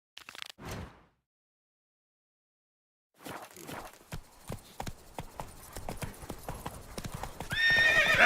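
Roach, the horse from The Witcher 3 game, gives a short neigh, then after a pause her hooves clip-clop in a steady walking rhythm that grows louder, ending in a loud snort or whinny, close by.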